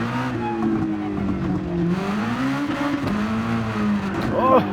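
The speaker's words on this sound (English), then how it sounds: "We'll use some engine braking to help us out." A race car engine in Gran Turismo 7 drones and downshifts under engine braking on the Red Bull Ring, a steady loud mechanical tone with shifting pitch and a brief rising rev near the end.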